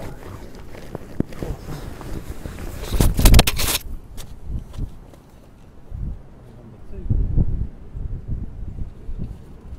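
Fabric snow sock being pulled and fitted onto the tyre of a Suzuki Alto, with close rustling, scraping and thumping handling noises in uneven bursts, one sharp louder flurry in the middle.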